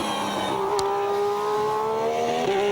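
A Formula 1 car at 2015 pre-season testing at Jerez runs on track, its high-pitched engine loud and close with sweeping pitch changes as it shifts and accelerates past, no voices.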